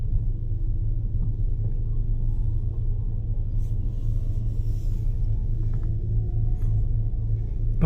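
Warsaw city traffic rolls past as a steady low rumble of engines and tyres, continuous and fairly close, with a few lighter passing swells on top.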